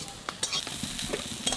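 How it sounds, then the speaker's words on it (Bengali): Flowers fry in a pan while being stirred, giving a soft continuous sizzle broken by scraping, clinking strokes of a spatula, close by and fairly quiet. "ফুল ভাজা হয়ে গেছে, হানে নামাই দেবো।"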